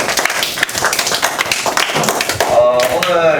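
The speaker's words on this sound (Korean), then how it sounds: "박수를 칩시다." A classroom of students claps together in a dense, steady patter of hands that carries on without a break, close and loud, with voices mixed in among the applause.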